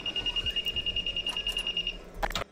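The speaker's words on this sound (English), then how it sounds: "This will make a beeping sound when someone with a weapon passes through it" A rapid, steady electronic beeping from a video game metal detector pulses for about two seconds, then stops, followed by a brief clatter.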